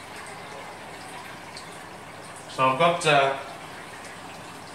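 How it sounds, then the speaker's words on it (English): Water splashes and trickles in a reef aquarium sump, a soft, continuous wash under a clear nearby voice that speaks briefly midway. "You can hear a bit of water splashing down there"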